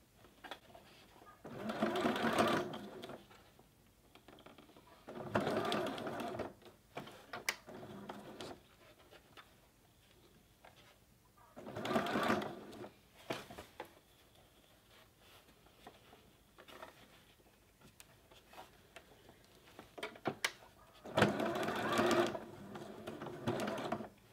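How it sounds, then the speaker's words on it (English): A sewing machine stitches in several bursts of whirring, with short pauses between runs and quieter handling noises in the gaps. "I have now gone all the way around the edge with my sewing machine."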